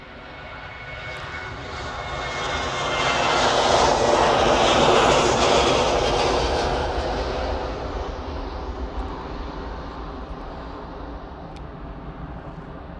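A Ryanair airliner departs Manchester bound for Dublin, a rumbling engine roar that builds to a loud peak and slowly trails off as it climbs away, heard alone without talk.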